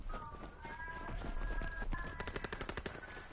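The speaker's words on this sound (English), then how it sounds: "He's posting up with MG15." MG15 machine gun firing in an online war video game, rapid bursts of automatic fire that build into a fast rattling stream near the end, amid other game sounds and faint talk.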